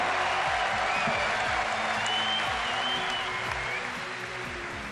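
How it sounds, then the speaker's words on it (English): A large crowd applauds steadily throughout at a League of Legends world championship award ceremony for SK Telecom T1, dense and continuous clapping with some faint voices mixed in. "getting the applause he deserves"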